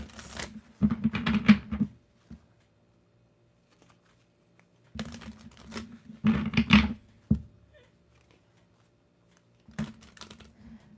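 Bursts of rapid riffling and slapping as tarot cards are shuffled, three separate rounds with quiet gaps between them, close and crisp.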